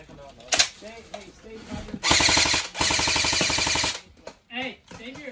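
An airsoft gun fires in two rapid full-auto bursts of clattering shots, close and loud, with people talking before and after inside a bus.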